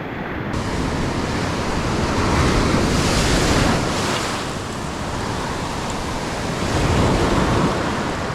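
Sea waves break over a sandbar on a fishing beach, a loud continuous wash of surf swelling and easing in slow surges, mixed with buffeting wind on the microphone.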